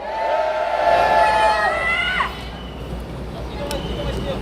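A large crowd at a street protest march shouts together in a loud roar that then drops to a distant, noisy outdoor murmur.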